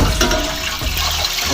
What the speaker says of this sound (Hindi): सबसे पहले 2 गिलास पानी डाल रहा हूँ